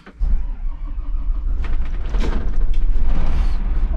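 An Irisbus Crossway coach engine runs steadily and close by, a loud low rumble that builds slightly with mechanical creaks and hiss layered on top, with no talk.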